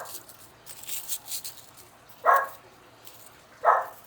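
A dog barks twice indoors at a distance, two short separate woofs spaced about a second apart, following some faint background movement and murmuring.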